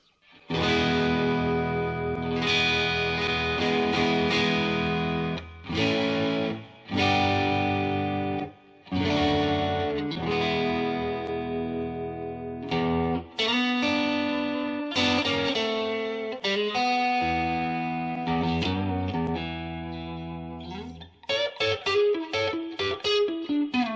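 A Fender American Professional II Telecaster on its neck pickup plays a steady run of sustained chords and notes with a warm, rounded tone, drenched in reverb and effects, with no talking.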